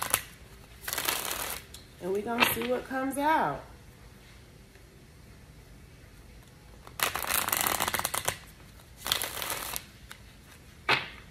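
A deck of cards is shuffled in several quick riffling bursts, close and crisp, with a person talking between and over the shuffles.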